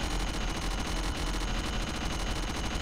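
A spinning gun in the game Cortex Command fires rapidly, producing a loud, dense, continuous rattle of overlapping shots with no pauses.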